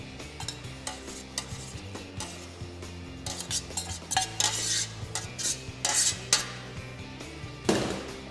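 Orecchiette and broccoli are stirred into arrabbiata sauce in a pan: a spoon scrapes and clinks against the metal in irregular bursts over a soft sizzle, growing louder toward the end.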